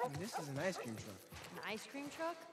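A dog barks and yips in The Last of Us Part I, with short, close, repeated calls mixed in with a person talking.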